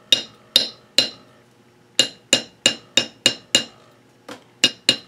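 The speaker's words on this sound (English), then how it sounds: "I'm going to forge that round wire flat" A hammer strikes round wire laid on a steel plate, forging it flat. About a dozen sharp, ringing metallic blows land close by in an uneven rhythm, with short pauses between groups.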